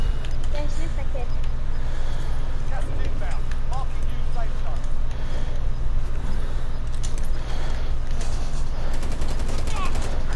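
Dense, continuous gunfire from Call of Duty Warzone, with rapid bursts and scattered shots layered in a loud, busy game mix under talk.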